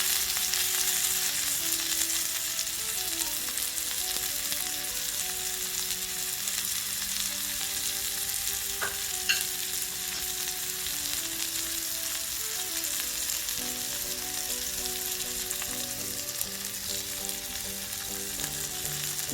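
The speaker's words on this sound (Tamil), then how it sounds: "இது ரோஸ்ட் ஆகிறதுக்கு கிட்டத்தட்ட ஒரு 10 மினிட்ஸ் தான் எடுக்கும். ஏன்னா மஷ்ரூம் ரொம்ப குயிக்காக வெந்துடும்." Mushrooms and potatoes roast in an oiled pan for a Western-style breakfast, giving a steady, close sizzle and crackle of frying that runs without a break, with a faint stir or clink partway through and no voices.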